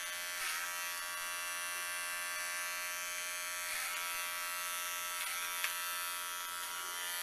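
Electric hair clippers buzz steadily while cutting a man's hair with a comb, a close, continuous high-pitched whirring drone with slight changes in tone as they move, no talking.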